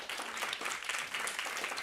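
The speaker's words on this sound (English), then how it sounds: "Please give him a round of applause." An audience at a talk applauding, a continuous wash of many hands clapping at an even level, brief and moderately distant.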